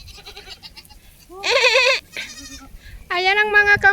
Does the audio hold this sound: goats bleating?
yes